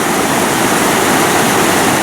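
A swollen, turbid river at Blue River rushes over a waterfall, giving a loud, close, unbroken roar of water.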